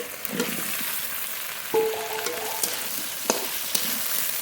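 Boiled potatoes dropped into spice paste frying in oil for a Bengali yardlong bean and potato curry, giving a steady close sizzle with a few sharp clinks and stirring scrapes.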